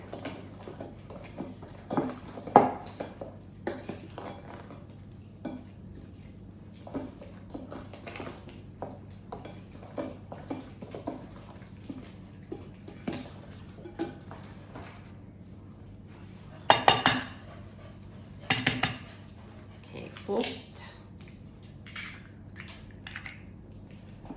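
Batter being mixed in a bowl, a spoon or whisk clinking and scraping against the sides in an irregular rhythm, close and moderately quiet, with a few sharper knocks partway through and no speech.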